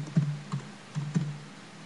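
Keys tap on a computer keyboard as a username and password are entered: about five distinct, close clicks in an uneven rhythm, with nothing else heard.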